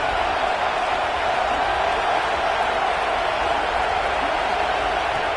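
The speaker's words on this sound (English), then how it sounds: "this home crowd is fired up and ready to make a difference" A home crowd at a football game roars in a dense, steady wall of cheering and shouting that holds an even level throughout, with no single voice standing out.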